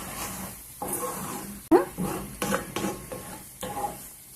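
A spatula scrapes and knocks against a pan while cluster beans egg curry is stirred over high heat, with a run of short irregular clatters and scrapes close by and a faint sizzle underneath.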